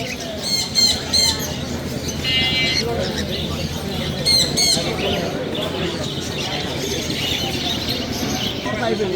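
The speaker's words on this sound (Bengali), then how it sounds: "অনেক সুন্দর সুন্দর পাখি এখানে থাকে আপনারা দেখতে পাচ্ছেন বিক্রি হয়" Birds squawk and chirp in sharp repeated bursts at a busy weekly bird market, heard over crowd murmur and people talking nearby.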